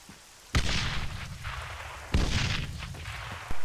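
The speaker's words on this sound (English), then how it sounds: "Oh, that was the second grenade." Two grenade explosions in an online multiplayer shooter game, each a loud sudden boom with a rumbling tail, the second arriving about a second and a half after the first, followed by another sharp blast at the very end.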